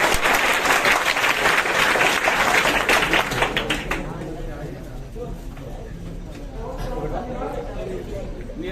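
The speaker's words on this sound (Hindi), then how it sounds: "सभी लोग इनके लिए ताली बजाइए।" An audience at a children's award ceremony in Desari applauds loudly for about four seconds, then the clapping fades into murmuring crowd noise and chatter.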